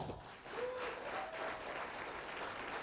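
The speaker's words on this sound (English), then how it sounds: "I would like you to once again give them a hand of applause" An audience at the 2019 Capital Market University Challenge closing gives a steady round of applause, sounding faint and distant, with a brief tonal voice or whistle heard through it.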